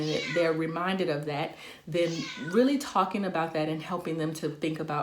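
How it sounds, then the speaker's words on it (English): A house cat meows repeatedly, with clear rising and falling calls close to the microphone, heard under and between someone talking steadily. "sorry about that, that's my cat"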